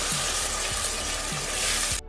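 Tomato paste added to golden fried onions with garlic-ginger paste hisses and sizzles steadily in a hot pan, a loud continuous fry with faint scraping stirs, no talk.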